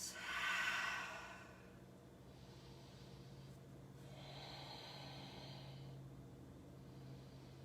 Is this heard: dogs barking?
no